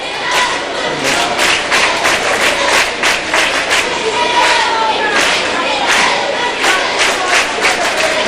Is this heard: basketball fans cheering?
yes